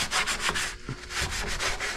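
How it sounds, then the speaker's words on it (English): A 3M scuff pad scrubs a car's firewall cowl during paint prep, making a close, rhythmic abrasive rasp of quick back-and-forth strokes with a brief pause in the middle. "scuffing it, getting ready for paint. And I'm just using this scuffing stuff. It's made by 3M."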